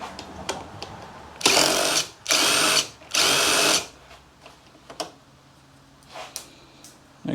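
A power driver fitted with a 7mm bit whirs in three short bursts, removing the grille insert fasteners from a Chevy Colorado's front bumper. Light clicks and handling taps come between the bursts, close by, with no talk.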